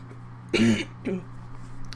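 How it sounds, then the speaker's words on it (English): Two short coughs, a strong burst followed by a weaker one about half a second later, close to the mic over a low steady hum. "Sorry if you hear some coughing."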